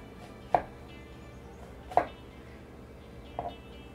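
A kitchen knife chops food on a cutting board, three sharp separate knocks spaced about a second and a half apart, close and fairly quiet with no talking.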